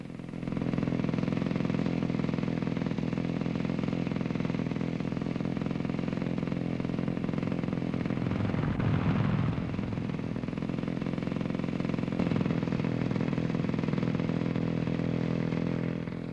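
A steady engine drone of motor scooters from 1962 idling nearby, running continuously with a slight swell in the middle.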